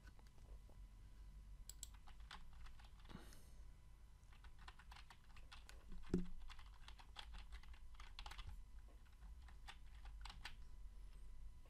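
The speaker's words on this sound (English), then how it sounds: "And then type in your password here that you used to create your Luno account." Faint, close computer keyboard typing of a password, a scatter of light key clicks in irregular bursts over a quiet room hiss.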